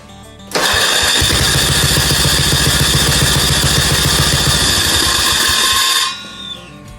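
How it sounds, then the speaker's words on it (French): A motorcycle engine fitted with a new exhaust fires up after half a second, runs at a loud, steady idle with a throbbing rumble for about five and a half seconds, then cuts off and fades into quiet. "vous avez quand même le droit à entendre le moteur tourner avec ce fameux pot d'échappement"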